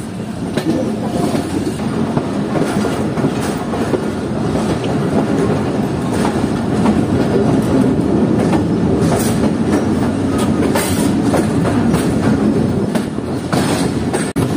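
The Jaffer Express locomotive and coaches roll onto the Lansdowne Bridge after a sharp right curve, a steady loud rumble with clickety-clack and faint wheel squeal throughout, heard from aboard the train.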